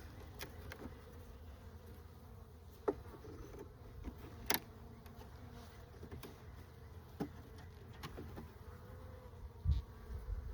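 Honeybees buzz around an opened hive during a spring inspection: a faint, continuous insect hum with a few sharp close clicks and knocks from handling the hive.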